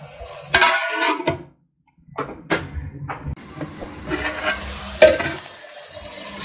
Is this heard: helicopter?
no